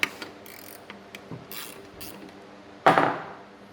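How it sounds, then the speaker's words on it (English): A 10 mm wrench works a mounting bolt free on a Pontiac Fiero headlight motor: soft, scattered ratcheting clicks up close, then one sharper, louder metallic scrape near the end. "10 mil to take these 3 mounting bolts off for the motor."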